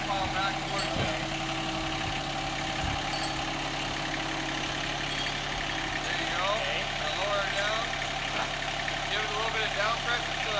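A tractor engine idles steadily nearby while pulling back a pile, a constant low mechanical drone with faint clanks, under people talking.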